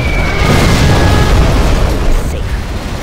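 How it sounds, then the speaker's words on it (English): A loud, dense booming particle cannon blast in Command & Conquer: Generals, with rumbling low end and crackling noise, sustained for a few seconds before tapering slightly. "Particle cannon ready."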